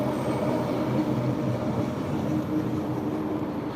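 A SkyTrain passing outdoors in Vancouver as a steady, moderately distant rumble of rail wheels on the track, with no talking.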